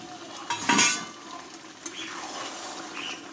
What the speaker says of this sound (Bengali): দিয়ে এবার চিকেন আলু আমি একসঙ্গে কষতে থাকবো।